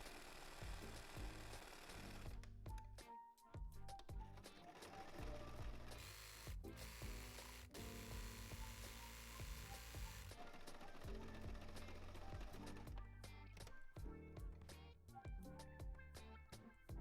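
A sewing machine fitted with a ballpoint needle stitches pink thread through stretchy swimsuit fabric, giving a steady, close mechanical whirring with ratcheting clicks and short pauses between runs of stitching.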